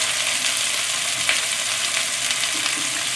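Cauliflower pieces frying in a pan give a loud, continuous sizzle close by, with a faint scrape or stir partway through and no talking.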